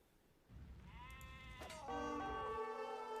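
Sheep in the video game Age of Empires bleat loudly in drawn-out, wavering cries, one after another, over a low rumble of game sounds.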